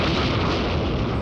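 A cartoon volcano erupts in a loud, dense roaring blast that fills the whole moment without a break.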